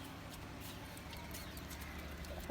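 Pigeons in a loft give soft, low cooing calls, faint and distant against a quiet background hum, with a brief sharper sound at the very end.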